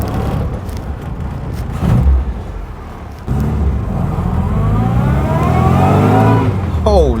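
A pepped-up Austin A35 van pulls away through its heavy, abrupt clutch, the small engine droning and climbing in pitch, loud and near, with a voice speaking over part of it.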